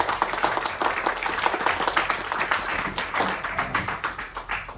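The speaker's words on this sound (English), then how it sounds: "So please, a big round of applause for him." Audience applause after a talk at a music rights and royalties seminar, a steady wash of many hands clapping throughout, moderately loud and dense with no voices on top.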